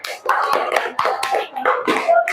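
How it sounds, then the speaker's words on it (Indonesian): A classroom of schoolchildren claps together in a religious studies lesson, a few close bursts of hand claps in uneven groups, loud and near, with children's voices mixed in. "Oke, tepuk tangan untuk kita semua."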